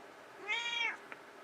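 A cat gives a single clear, drawn-out meow at close range, lasting about half a second in a quiet room.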